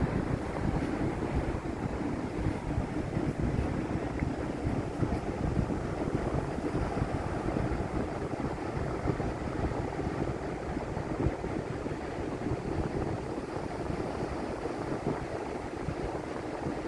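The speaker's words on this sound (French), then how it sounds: "le son de ces vagues" Ocean waves washing onto a long open beach, a continuous, fairly soft surf rumble with wind buffeting the microphone throughout and no voices.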